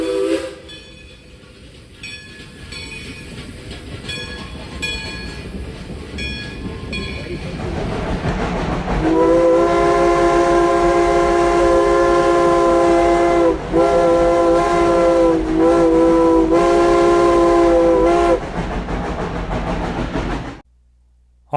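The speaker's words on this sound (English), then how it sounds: "we made a trip to Dollywood and recorded the train, the Dollywood Express" The Dollywood Express heritage steam train rumbles and chuffs along, then its whistle blows a long, loud chord over the steady running noise before cutting off.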